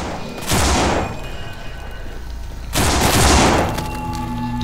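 Gunfire in the zombie survival game No More Room in Hell, two loud bursts of shooting about two seconds apart, each rising sharply and then trailing off into a steady background hum.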